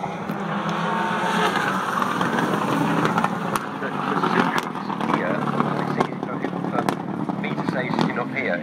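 Four-wheel drive rally car snapping sideways around a hairpin on a promenade stage in New Brighton, engine revving hard and fluctuating close by, with sharp crackles and a commentator talking over it.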